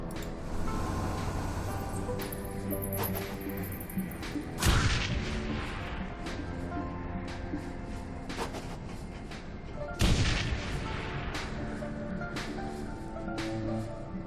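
Gunfire in the game Shadowrun: Hong Kong: two sharp, loud shot impacts, one near five seconds and another near ten, rise above a dense, busy game soundscape.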